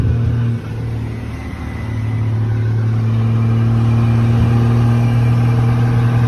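A damaged Cummins diesel engine in a truck runs loud and close, a dip in the first second giving way to a steady, heavy low rumble with a rough droning tone and no talk.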